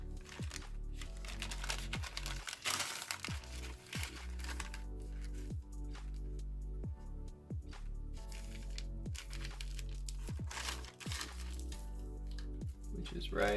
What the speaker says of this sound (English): We're gonna crease it to the center.